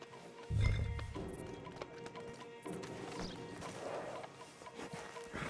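A horse in Red Dead Redemption 2 gives a heavy snort or thud near the start, followed by restless shuffling hoof sounds against a steady game background, close and moderate in level, with no clear talking.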